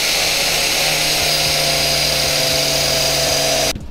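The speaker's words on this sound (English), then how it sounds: "here is the results of the grinder and the cutting wheel on the foam" An angle grinder fitted with a cutting wheel slices into boat flotation foam during a jon boat to bass boat conversion, a loud, close, high-pitched motor whine with the pitch dipping in repeated bogs as the wheel bites, then stopping abruptly.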